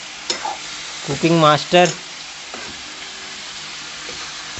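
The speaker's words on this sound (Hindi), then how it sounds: "तो अभी करछुल चला ही मितान है" A ladle scrapes and stirs sugar in a frying pan over a sizzling fire, a few quick clinking strokes up front followed by a steady low fry, with brief speech at the start.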